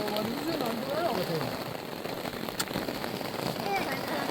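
Heavy rain pours onto a tent in a dense, steady hiss with scattered louder drops, and people talk faintly underneath.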